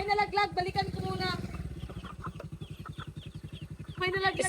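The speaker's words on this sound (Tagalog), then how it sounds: "Yung manok na lumalapit sa akin." A chicken clucks in rapid, steady pulses as it comes close, starting loud under a talking voice, then continuing alone before the voice returns.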